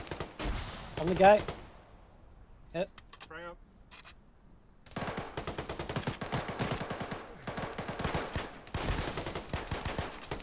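Bursts of rifle and machine-gun fire from an ArmA 3 military firefight, dense rapid volleys that start, pause for a few seconds, then return sustained and loud, with voices calling over the shooting.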